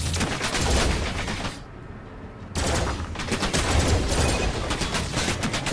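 Dense, rapid bursts of gunfire from the VR video game Farpoint, plasma rifle fire among it, near-continuous volleys with a brief lull in the middle before the shooting resumes.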